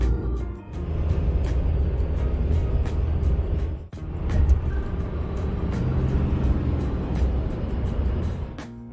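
Steady car engine and road rumble at close range, continuous and fairly loud as the vehicle rolls into a logistics depot in Secaucus, New Jersey, with one brief dip midway.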